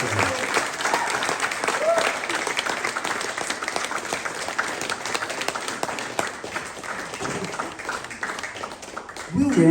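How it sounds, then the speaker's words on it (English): An audience applauds a singer's performance with sustained, dense clapping that stays loud and steady for about ten seconds, with a brief burst of voices near the end. "Keep that applause going"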